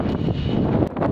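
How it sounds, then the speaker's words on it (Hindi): Strong wind buffets the microphone on a rooftop terrace, a loud, steady roaring rumble with brief gusty dips and no voices. "क्योंकि इतनी ज़्यादा हवा चल रही है"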